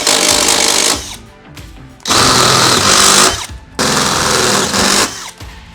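A power drill fitted with a 1/2 inch bit widens holes in the body of a RAM ProMaster van. It whines loudly in three long bursts, with short pauses between them where the motor winds down.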